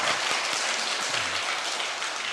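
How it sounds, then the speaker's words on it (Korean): Church congregation applauding during a Sunday service, a continuous soft wash of many hands clapping heard from a distance, even and fairly faint. "우리 박수 한번 칩시다"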